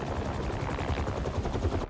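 Helicopter rotor blades in the video game Marvel's Spider-Man 2 beat in a steady, rapid low thudding pulse, loud and close, continuing for about two seconds before cutting off abruptly.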